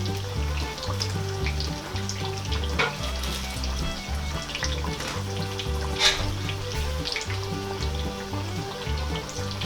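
Slices of sweet potato (kamote) fry in a pan as brown sugar is added for camote cue, giving a continuous, close, bubbling sizzle with small crackles and no talk.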